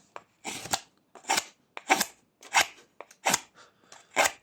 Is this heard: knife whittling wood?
yes